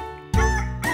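A rooster crows in a children's animal-sounds lesson: one loud, close, drawn-out harmonic call that rises sharply and stretches to the end.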